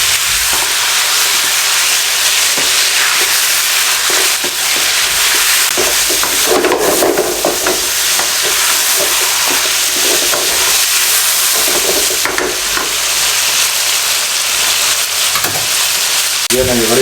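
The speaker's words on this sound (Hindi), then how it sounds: "3 से 4 मिनट मैं इसमें फ्राई कर लूँ घी में" Chicken frying in ghee in a karahi for a Cholistani chicken karahi, a loud continuous sizzle close up with occasional stirring scrapes throughout.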